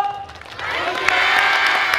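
Applause from the crowd at a YOSAKOI dance festival performance in Japan, building from scattered claps into steady, full clapping with some cheering, heard close and continuous.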